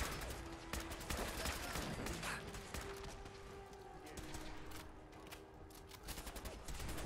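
Video game gunfire in Fallout 4 rattles at the player in rapid bursts, mixed with scattered impacts and mechanical clatter at a moderate distance, loud at times and thinning toward the end.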